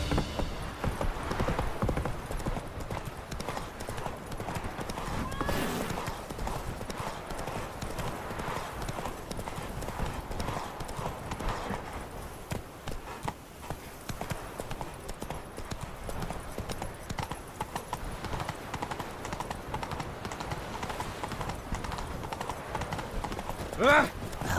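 Horse hooves gallop in The Witcher 3 video game, a fast, steady clip-clop that runs the whole way through at moderate loudness, with voices speaking briefly over it.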